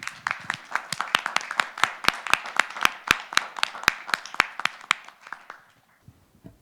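A small audience claps after a speaker at a writing prize event. The claps are individually distinct and fairly rhythmic, build steadily, then thin out and stop after about five seconds. Trailing quiet follows.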